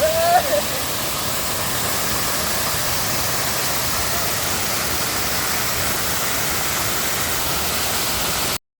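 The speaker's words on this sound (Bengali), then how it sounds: "অবশেষে আমরা প্রায় ৪৫ মিনিট হাঁটার পর এই ঝর্ণার প্রথম যে ধাপ সেই ধাপের দেখা পাই" A steady, loud roar of a waterfall fills the whole stretch, a dense continuous rush without pause, heard close by at Khoiyachora falls.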